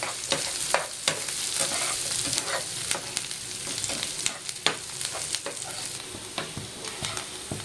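Chicken pieces fry in onion curry in a pan, a dense continuous sizzle close up with repeated scraping clicks from a stirring spoon throughout, no talking.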